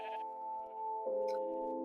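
Sheep bleat nearby in two long, loud, wavering cries, one right after the other, with no talk.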